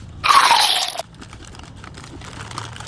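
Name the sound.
crunching and eating potato chips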